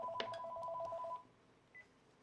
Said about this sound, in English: And here goes the phone.